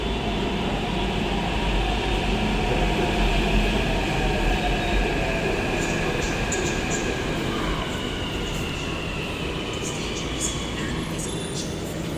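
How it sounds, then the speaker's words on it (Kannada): A metro train arrives, rumbling steadily and loudly throughout, a continuous low roar of rolling cars with faint high squeals near the end. "ಬಂದ 1 ನಿಮಿಷಕ್ಕೆ ಟ್ರೈನ್ ಬಂತು"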